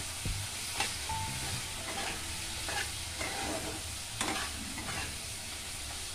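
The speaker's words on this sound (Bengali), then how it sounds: "আর ভেজে রাখা বড়িগুলো দিয়ে আবার ওই মশলার সাথেই ওগুলো একটু ভেজে নিলাম।" Bori (lentil dumplings) frying and being stirred in spice paste for bata fish curry: steady close sizzle with scraping spatula strokes and clinks throughout, no voices.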